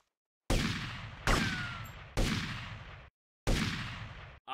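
Four heavy gunshots from the video game GTA ring out in an attack on a police station, each a loud, sharp blast with a long decaying tail, spaced about a second apart with brief silences between.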